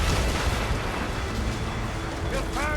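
Ship cannons fire during a naval battle in the video game Assassin's Creed Rogue, producing heavy rumbling booms and crackling debris that roll continuously under game ambience, with a brief voice-like sound near the end.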